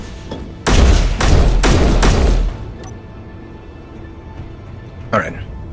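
Video game gunfire shooting a piece off a rover: a rapid burst of loud, heavy shots lasting about two seconds, followed by quiet and one fainter thump near the end.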